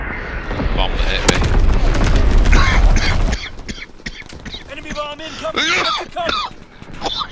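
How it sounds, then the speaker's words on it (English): A loud, dense explosion and gunfire barrage from the World War II shooter Call of Duty WW2, with heavy booms that cut off abruptly and are followed by quieter in-game voices and effects. "Oh, I just died by an explosion."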